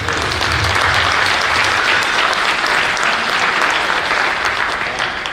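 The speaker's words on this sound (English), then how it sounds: "Give a round of applause for all the parents on this team." Dense, loud applause from the crowd at a youth basketball championship honouring the players' parents, a continuous wash of many hands clapping without pause, no voices standing out.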